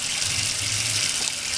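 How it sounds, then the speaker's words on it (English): Hot water pouring steadily from a sink tap, a continuous close hiss and splatter with no pauses and no talking. "Turn on the hot water"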